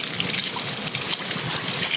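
Warm water gushing and splashing steadily from a source at an abandoned resort, close and constant with slight fluctuations and no talking.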